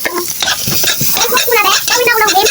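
Onion sautés in a hot pan for pancit bihon, loud close sizzling broken by repeated scraping stirs of a utensil against the pan.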